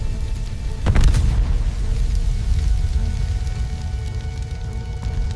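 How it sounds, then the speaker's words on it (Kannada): A distant explosion in a ghost train thriller story, one muffled boom near the start over a low rumbling, rain-like background that continues steadily and fairly quietly. "ಇದ್ದಕ್ಕಿದ್ದಂತೆ ಅವನಿಗೆ ದೂರದಲ್ಲಿ ಬೆಂಕಿ ಮತ್ತು ಸ್ಫೋಟದ ಸದ್ದು ಕೇಳಿಸುತ್ತದೆ."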